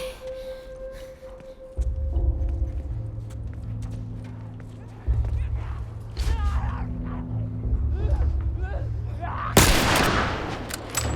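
Gunfire in The Last of Us while defending windows, sporadic shots and bursts over a droning rumble and layered game sounds, with one loud sharp crack near the end; a voice speaks briefly.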